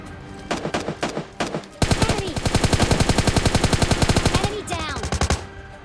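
PUBG Mobile Lite gunfire rattles in loud, close bursts: a few quick volleys, then a long rapid automatic stream of even shots, then another short burst.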